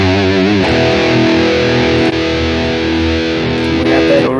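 Heavily distorted electric guitar playing sustained chords through a Headrush Prime using a VH4 amp model, thick and loud, with a saturated high-gain amp tone and chord changes.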